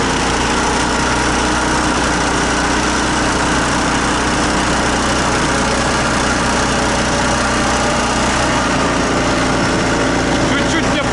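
A tricycle's small engine revs hard on an off-road ride to an abandoned village, a loud, buzzing, rough drone that holds steady throughout.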